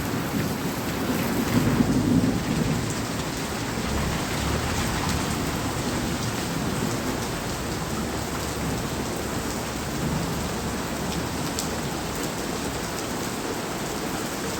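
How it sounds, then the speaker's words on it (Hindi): Heavy rain in Haridwar, India pours steadily, a dense constant roar with a low rumbling undertone throughout, loud and close, with no talking. "ये देखो कितनी तेज़ बारिश हो रही है गाइस, हरिद्वार की बारिश"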